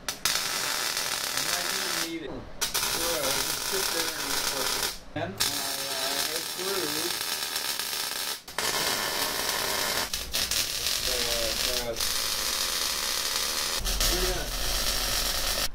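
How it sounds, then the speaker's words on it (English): MIG-style welding of a bed frame into a truck build, a steady crackling hiss running almost continuously with a few short pauses, under someone talking over it. "I'm gonna weld this here bed frame in."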